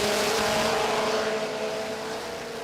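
A 2016 Volkswagen Golf drag car at a Sydney drag racing event produces a loud, sustained engine drone, holding steady before easing slightly toward the end, with no voices over it.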